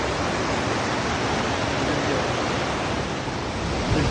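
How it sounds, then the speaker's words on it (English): A raging waterfall beside a trail bridge in the Glacier Peak Wilderness gives off a constant, dense, rushing roar, loud and unbroken throughout with no other sounds. "It's near a raging waterfall."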